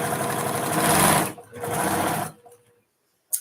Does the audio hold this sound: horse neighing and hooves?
no